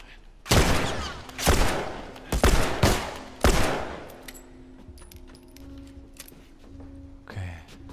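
Around six loud, sharp gunshots ring out in the video game The Last of Us, fired in quick uneven succession with echoing tails, followed by a quiet stretch and one dull thud.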